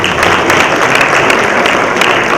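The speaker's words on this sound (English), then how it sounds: "I think it really deserves a big round of applause" A large audience at a business awards ceremony gives loud, sustained applause, a thick continuous roar of many clapping hands with occasional sharper claps, close and filling the space.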